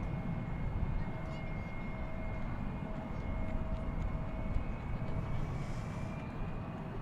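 An American Airlines jet departing DFW Airport at night, a steady distant engine roar and rumble that holds for the whole stretch, with a constant whine riding on top.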